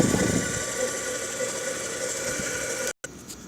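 An automotive oil change machine pumps oil into an engine, giving a steady mechanical hum and whir at close range that cuts out briefly near the end.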